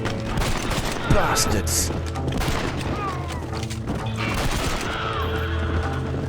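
A rapid fusillade of gunfire rattles through Red Dead Redemption 2, dense repeated shots and impacts over a continuous battle din, with a voice speaking over the fighting.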